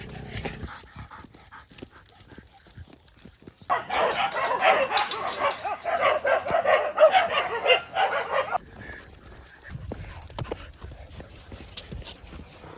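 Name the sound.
dogs barking at animal sanctuary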